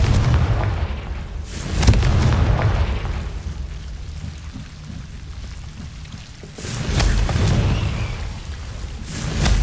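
Two deep booming blasts of the Confringo fire spell in Hogwarts Legacy, a few seconds apart, each swelling and fading under a low rumbling, rain-like bed with no talk.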